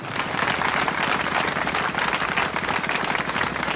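A church congregation claps loudly and steadily for several seconds, a dense, close wash of applause filling the room without a break.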